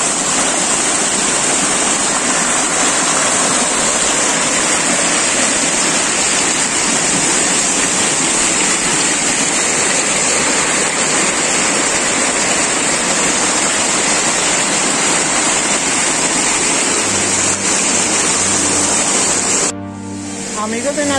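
Water rushes steadily over rocks at Charco El Campanario, a clear natural pool with a waterfall, making a loud, unbroken close roar; a voice briefly joins near the end.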